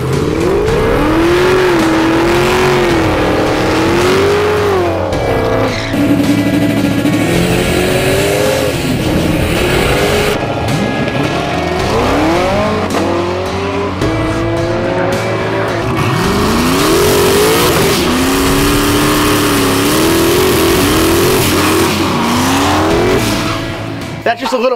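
Fast Chevrolet Camaro race cars rev and accelerate hard, engines rising and falling in pitch through repeated gear changes with tire squeal, loud and continuous under a talking voice.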